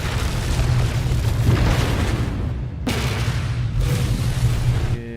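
A shot cargo pod explodes in the space game No Man's Sky. A deep, rumbling boom rolls on for several seconds, then a second sharp blast hits and fades into a long roar.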